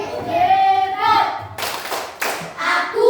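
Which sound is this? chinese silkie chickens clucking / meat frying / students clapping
students clapping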